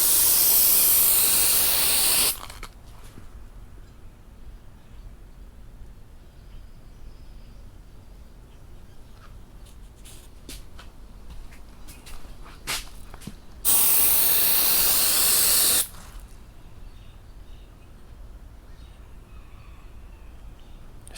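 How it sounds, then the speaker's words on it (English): Two hissing bursts from a spray can aimed at a cracked dashboard on a Box Chevy during a fiberglass repair: a loud spray opening the stretch, a long quiet pause with faint handling noises, then a second short burst. "so we just gonna spray this"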